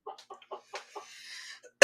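A rooster clucks in a quick run of short, close calls, then draws out a longer, strained cry. The calls end in a sudden loud rustling burst.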